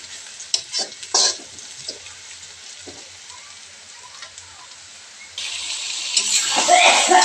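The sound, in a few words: liver and brain frying together in a pan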